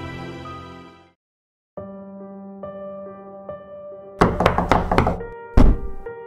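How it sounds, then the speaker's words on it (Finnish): Loud banging knocks on a front door come in a rapid cluster of heavy thuds, then one last hard blow, all over a sustained tonal music bed with no speech. "Kuulin kovaa paukutusta ovesta."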